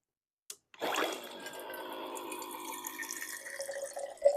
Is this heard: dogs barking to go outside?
no